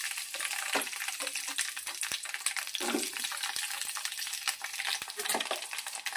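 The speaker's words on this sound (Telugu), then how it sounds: "పచ్చిమిర్చిని ఆయిల్లో వేసి వేపుకోవాలి." Washed whole green chilies frying in hot oil in a bowl on a gas stove, a continuous close crackling sizzle with occasional sharper pops, steady and fairly loud throughout.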